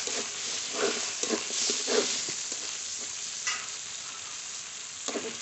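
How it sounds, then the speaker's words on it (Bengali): Spices for mutton kosha with turmeric and chopped tomato sizzle steadily in a pan, with repeated stirring scrapes of a spoon through the frying masala, close and continuous, no talk. "একটু জল দিয়ে ভালো করে মশলা কষিয়ে নেব।"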